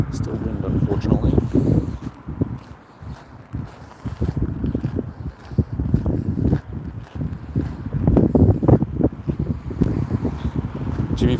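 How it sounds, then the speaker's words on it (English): Blustery outdoor wind buffets the microphone in low, uneven gusts, rising and falling throughout while people talk over it. "it's not as bad as it was earlier, but there's still wind, unfortunately"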